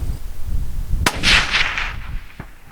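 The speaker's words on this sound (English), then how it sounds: "So we just decided to take the shot from there" A single sharp rifle shot fired at a coyote outdoors, a loud crack followed by a rolling echo that fades over a second or so.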